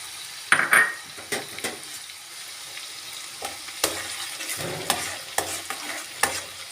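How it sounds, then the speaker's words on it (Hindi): Onion cooking in oil in a pan over a low flame, a soft, steady sizzle broken by repeated clinks and scrapes of a spoon stirring against the pan. "ऑनियन को इसमें ऑयल में अच्छी तरह से आपने पका लेना है"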